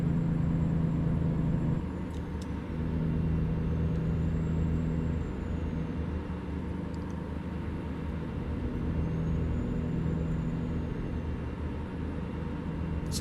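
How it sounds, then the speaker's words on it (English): A 1952 Peterbilt semi truck in American Truck Simulator drones steadily at cruising speed, a low constant rumble with brief higher tones and clicks over it. "truck I'm driving right now is a 52 Peterbilt."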